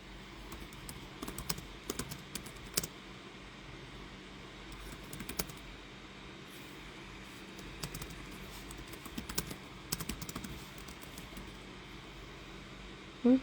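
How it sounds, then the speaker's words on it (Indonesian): Quiet typing on a computer keyboard during a home live trading session, with scattered bursts of key clicks over a steady low background hiss and no talking. "Ntar saya ketik dulu"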